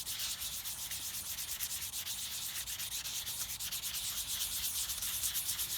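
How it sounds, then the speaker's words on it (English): Wet-dry sandpaper rubs steadily across a wooden piece by hand in quick, even back-and-forth strokes, a close, continuous scratchy hiss with no talking. "Sand that a little bit more"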